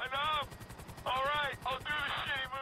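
Helicopter in the video game GTA 5, heard as a steady, rhythmic low rotor chop running throughout beneath a loud, talking voice.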